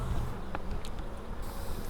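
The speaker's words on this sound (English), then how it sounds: "This is a drone bee" Honey bees, chubby drones among worker bees, buzz in a steady close hum with a few brief louder passes of individual insects flying by.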